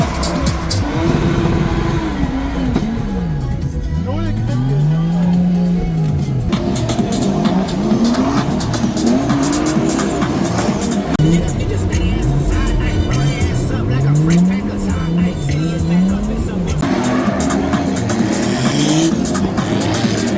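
A drift car at Hockenheim slides through runs with rising and falling engine revs and tire squeal, the engine sweeping up and down repeatedly at close, loud range, with some speech faintly mixed in.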